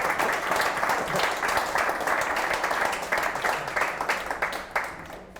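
An audience at a live event in a Stockport pub claps together in response to a call for a vote, a steady crowd of many hands spreading unbroken for several seconds before tailing off.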